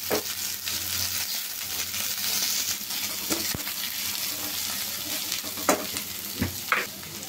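Small pieces of meat fry in a pan, a steady broad sizzle broken by occasional scrapes and stirring knocks, close and fairly loud, with no voices.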